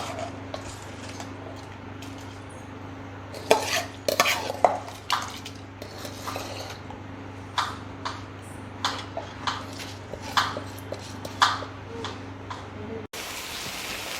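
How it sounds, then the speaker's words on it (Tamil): Rice is added to a pot of cooking lentils with garlic, asafoetida and turmeric for Tirunelveli kootanchoru and stirred, giving soft scraping and scattered clinks of a utensil against the pot over a steady low hum. "இப்போ ரைஸ் சேர்த்துக்கிறேன்."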